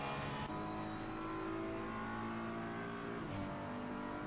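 GT3 and GT4 race cars, including a BMW and a Porsche, in Assetto Corsa Competizione at Imola, run a steady, loud engine drone with layered harmonics, one brief rising surge near the end.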